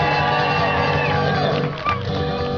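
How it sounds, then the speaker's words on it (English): A crowd at a campfire sing-along show screams and cheers in a dense, continuous roar of high-pitched voices, loud and sustained throughout. "see the way they were screaming at us?"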